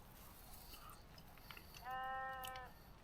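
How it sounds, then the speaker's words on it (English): Outside a tent in a valley during soaking rain, a sheep gives one clear, wavering bleat at moderate distance over steady rain patter on fabric. "There's a sheep going wild outside."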